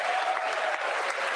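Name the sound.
members of Congress clapping at State of the Union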